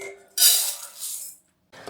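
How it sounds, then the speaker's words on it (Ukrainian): Rice being rinsed in a kitchen pot: a burst of wet swishing and grains clinking against the metal for about a second, then a short silence and a brief second stir, close and fairly loud, with no talking. "Промиваю рис."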